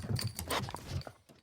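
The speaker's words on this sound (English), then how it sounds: "dog hears his name and comes running." A dog comes running up close, its quick paw patter and panting rising briefly before fading out near the end of the short burst.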